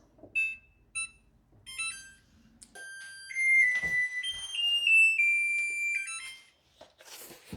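A kitchen timer set while baking peanut butter oatmeal chocolate chip cookies goes off with a few short beeps, then a longer stretch of sustained electronic alarm tones that step up and down in pitch, fairly quiet and alone.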